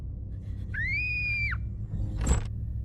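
A woman's high, sustained scream rises and falls over a low background rumble, followed by a short sharp burst of noise.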